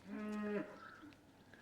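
A single loud, drawn-out moo from cow number 130 on a dairy farm, rising harmonically for about half a second before tailing off into quieter outdoor background noise.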